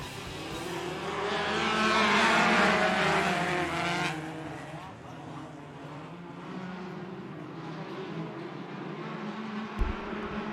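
Midget race cars of the Western Midgets Racing Series race at Bakersfield Speedway, a pack of engines roaring loudly, swelling to a peak early on and then holding a steady droning whine, with a brief thump near the end.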